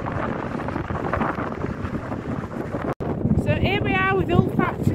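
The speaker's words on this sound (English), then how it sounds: "it's still windy" Strong wind buffeting the microphone on the beach at St Bees in Cumbria, a loud continuous rushing roar, with someone talking over it near the end.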